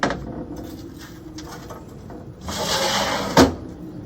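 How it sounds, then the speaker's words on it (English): An ash catcher on an Ole Hickory Ace MM barbecue smoker being closed, heard as a scraping metal slide that ends in a sharp close clunk near the end, close and fairly loud. "We'll go ahead now and close our ash catcher."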